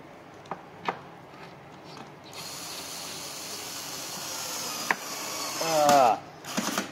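A Mr DIY Fixman electric screwdriver set to torque 6 drives a last screw, with a few sharp clicks early, a steady mechanical hiss, then a short rising motor whir near the end followed by brief clatter.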